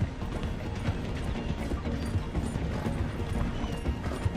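Horse galloping alongside a train in Red Dead Redemption 2, a steady dense rush of hoofbeats mixed with rumbling mechanical train noise, loud and continuous throughout.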